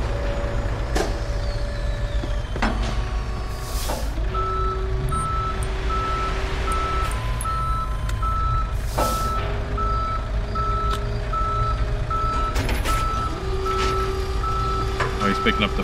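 A tow truck in the Police Simulator patrol video game reverses with steady electronic beeps at an even pace. Engine rumble sits underneath, along with brief hissing air-brake bursts and other traffic noise.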